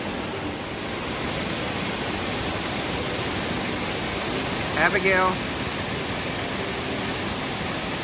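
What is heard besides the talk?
waterfalls rushing at a park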